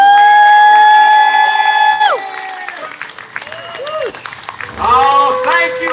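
County fair audience at a live show cheers, whoops and applauds after a held musical note ends, loud and close, with scattered shouts and clapping bursts fading and swelling again.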